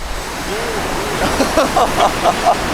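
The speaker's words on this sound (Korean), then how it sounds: "파도가 없는 건 아니야." Sea waves wash onto a rocky shore at a coastal fishing and abalone-gathering spot, a broad steady surf hiss with small splashes, with faint voices in the background.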